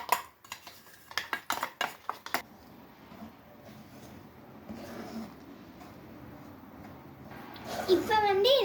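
A spoon stirring burfi powder into hot ghee in a metal pan, with a quick run of sharp scraping clinks at the start that gives way to softer stirring, while a voice talks.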